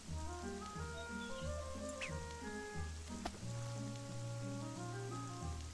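Steady rain patters across the scene in the Tales of Yuria game, a constant wash of drops layered under looping melodic background music with a brief sharper tap partway through.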